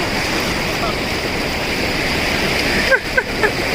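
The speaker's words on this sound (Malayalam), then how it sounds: "വെള്ളം നല്ല കുത്തി കൊടുക്കുന്നുണ്ട്." A strong forest stream rushes in a loud, continuous roar close by on a rough off-road route near Makkuvalli in Idukki, with a few brief high chirps near the end.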